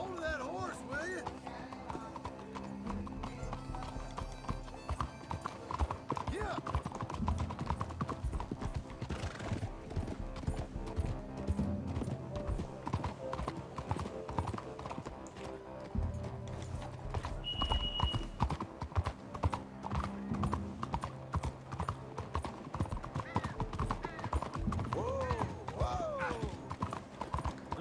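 Horse hooves clip-clop through a town in the video game Red Dead Redemption 2, a continuous trotting rhythm with occasional neighs, under frequent talking and game music.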